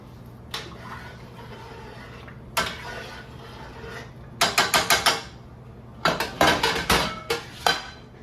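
Pasta being stirred with butter in a pot, giving sharp metallic clinks and scrapes of a utensil against the pot in irregular bursts, loud and close with no talking.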